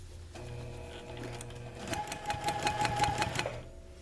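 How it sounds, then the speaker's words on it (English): Free-motion sewing machine stitching back and forth on fabric, a steady mechanical whir that speeds into a louder rapid needle chatter partway through, then stops. "I'm going to be making some just real sketchy type stitches, going back and forth to give it a sketchy look"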